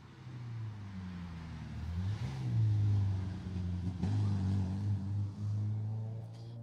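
A rally car on a Jersey Rally stage passes by, its engine rising from a distant drone to a loud revving roar and then easing off, heard alone with no voices.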